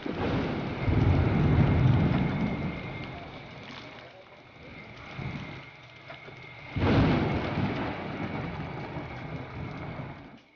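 Heavy rain with rumbling thunder in an outdoor setting, a steady dense wash rising in two loud surges with a quieter stretch between them, and no voices heard.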